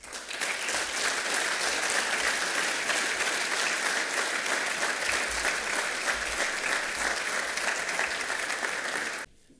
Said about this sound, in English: One more round of applause for all 6 of our inductees this evening.